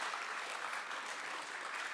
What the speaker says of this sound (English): Round of applause, ladies and gentlemen, please.